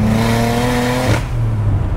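A 660bhp single-turbo BMW 335i engine revs hard with a steady rising tone, then the throttle lifts and the pitch drops abruptly into a lower, rougher note, loud and close throughout.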